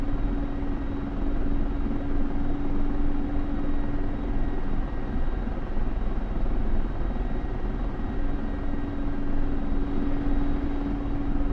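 Steady engine drone of an aircraft taxiing and rolling out in a flight simulation game, a continuous low rumble with a sustained hum, even and unbroken throughout with no voices.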